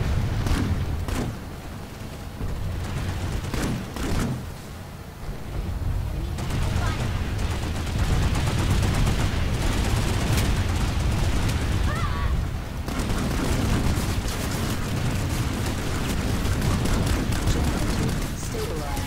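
Gunfire in the video game Planetside 2, bursts of rapid automatic shots and sharp reports mixed with blasts and battle noise, continuous and loud, with a player talking over it at times.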